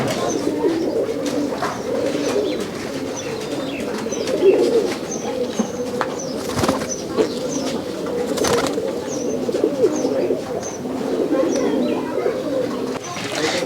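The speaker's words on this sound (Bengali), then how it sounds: "এগুলো হচ্ছে কালদম কবুতর।" A flock of Kaldum pigeons on a farm in Rajshahi coos steadily and close by, soft overlapping throaty rolls forming a continuous murmur with a few brief rustles and clicks throughout.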